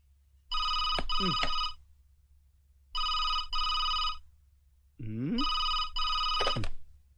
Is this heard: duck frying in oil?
no